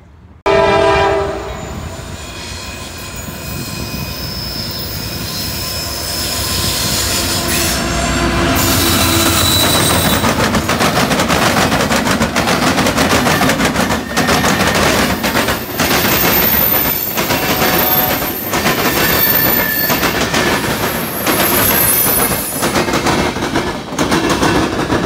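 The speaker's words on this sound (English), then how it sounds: "We got another westbound train coming by." A loud westbound train rolls past close by, with a horn blast at the start, continuous rumbling wheels and metallic squeals throughout.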